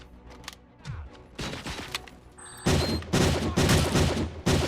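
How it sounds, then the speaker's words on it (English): Video game gunfire in an immersive sim, rapid bursts of shots and booms growing denser and louder, in close succession. "Keep shooting, they'll be dead eventually."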